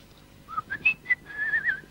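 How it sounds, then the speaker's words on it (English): A man whistles a short, lilting tune alone, a run of clear rising and falling notes, close and moderately loud, with no talk over it. "He's just whistling."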